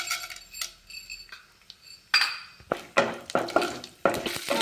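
Mustard seeds, cumin, urad dal and chana dal go into a pan for a coriander puliyogare breakfast dish: light clinks of a spoon and metal pan, then a run of crackling sizzle and sharp taps, close by, with no talk.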